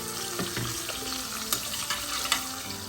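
Bitter gourd pieces frying in a pan, a steady close sizzle with occasional stirring taps and small pops, no voices.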